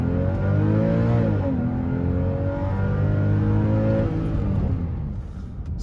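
A Porsche 911 996 with a Tiptronic automatic gearbox and a 315-horsepower engine accelerates hard from a standstill, its loud, steady engine note climbing in pitch, dipping briefly at a gear change, then rising again before easing.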